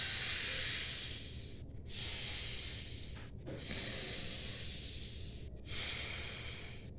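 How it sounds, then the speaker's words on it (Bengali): Audible pranayama yoga breathing, close and alone: forceful breaths drawn in and blown out with a breathy hiss, about four cycles in steady rhythm with brief pauses between them. "বায়ু ভরছি, শব্দ একটা সশব্দে, বায়ু বের করছি সশব্দে"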